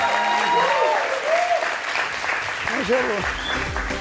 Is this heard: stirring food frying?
no